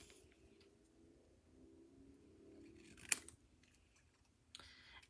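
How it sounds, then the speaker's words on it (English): Scissors trimming paper for a Halloween treat box, a quiet close snip standing out once over a faint background hum, followed by a softer paper rustle near the end. "Okay, so I'm just going to trim this down real quick."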